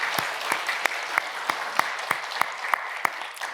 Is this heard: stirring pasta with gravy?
no